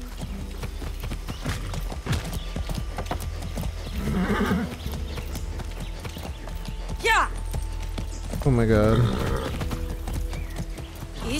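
Rhythmic hoofbeats of a galloping horse in Far Cry 6, with a horse whinny midway, under a steady background and brief excited speech.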